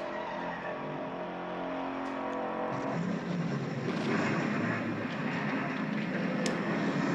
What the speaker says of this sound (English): This harmony, just that switching gears.